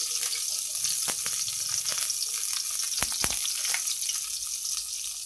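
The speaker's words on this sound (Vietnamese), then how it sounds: "Mình sẽ chiên nha, mấy cái tép tỏi này nó vàng lên." Garlic cloves frying in a pan for a vegetarian stir-fried water spinach dish, giving a steady, close sizzle throughout with a few sharper pops and crackles, no talking.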